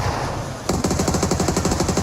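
Rapid automatic gunfire burst in PUBG Mobile, an evenly spaced string of loud close shots starting abruptly after a brief quieter lead-in, with no talk over it.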